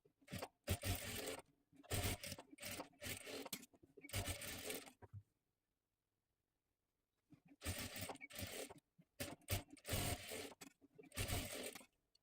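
Domestic sewing machine running double stitches along the shoulder seam of a one-piece dress cut from a leftover sari, loud close bursts of whirring stitching in two groups separated by a few seconds of silence.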